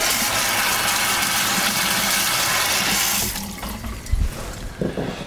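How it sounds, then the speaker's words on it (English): Tap water gushing loudly into a soup pot in a kitchen for about three seconds, then cutting off and leaving a few clanks and splashes. "Then we just take and fill this with water"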